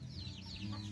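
A Rhode Island Red breeder hen clucks in soft, wavering calls at close range over a low background hum, a brief outdoor moment on a rural Philippine farm.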